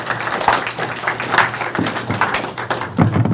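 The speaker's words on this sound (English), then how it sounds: "So this should cause applause." An audience applauding at an Ottawa astronomy club meeting, steady dense clapping filling the room for the whole stretch, with no talk heard.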